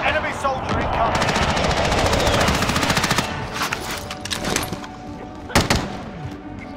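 Rapid machine gun fire in an online shooter game, a loud sustained burst of shots followed by scattered single bursts, with players talking over it.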